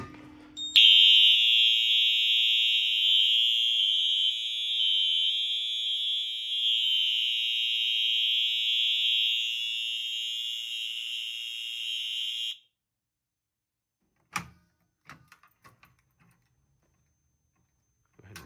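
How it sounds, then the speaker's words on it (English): An old high school fire alarm horn blares continuously for about twelve seconds during a system test, with a harsh, raspy tone, then cuts off, followed by a few faint clicks and knocks. "Let's go ahead and sound the alarm."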